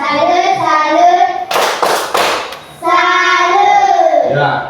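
Children clap a 'tepuk salut' clap chant in a classroom, a short burst of rhythmic clapping set between stretches of sung or chanted children's voices.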